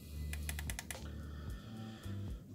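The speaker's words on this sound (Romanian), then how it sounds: "3 click-uri și am intrat în meniu" Quick close-up clicks from the button of a Wismec Reuleaux Tinker vape mod, a brisk cluster of crisp taps followed by quieter handling, with no voices.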